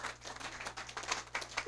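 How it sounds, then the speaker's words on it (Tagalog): A small audience claps in a brief burst during a leadership talk, the uneven hand-claps scattered and fairly quiet in a modest room. "Palakpak."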